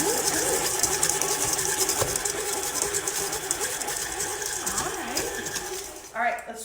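A stand mixer whirs steadily while blending gluten-free chocolate chip cookie dough, a continuous close motor drone that runs for several seconds before dropping off near the end.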